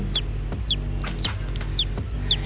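A country hen squawks loudly and repeatedly on a farm, five harsh shrill calls in quick succession, close by.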